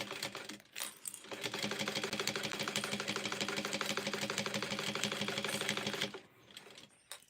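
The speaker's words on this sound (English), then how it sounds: "And it's stitching" A sewing machine stitches a fabric shoulder bag in one steady, rapid run of needle clatter lasting about five seconds, close and fairly quiet, with no talking.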